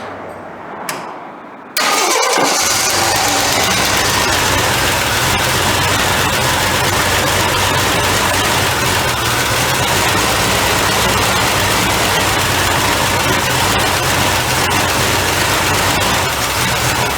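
A 1983 Jeep CJ5 engine fitted with a new carburetor cranks briefly, catches and starts, then runs on at a steady loud idle, close to the listener, with no speech.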